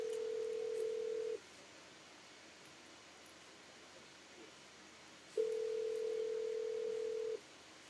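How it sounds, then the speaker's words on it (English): A phone ringing out during a call in the video game Scarlet Hollow: two long, steady ringback tones, one at the start and one after a pause of about four seconds, over faint background hiss. "pulls out her phone and dials it, waiting while it rings"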